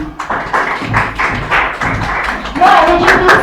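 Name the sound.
audience applause at a leadership event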